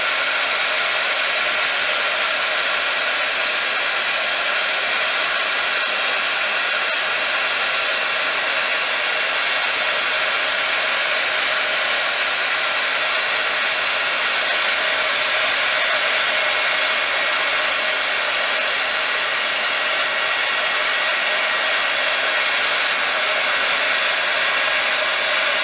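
Hair dryer blowing hot air onto a resin carousel pony, a loud, steady, unbroken hiss and whoosh of airflow lasting the whole time with no pauses.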